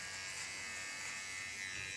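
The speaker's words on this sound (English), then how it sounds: "with a small clipper I can control the contour line" A small electric hair clipper trims a contour line on a short feminine haircut, giving a steady close buzz that runs unbroken and alone throughout.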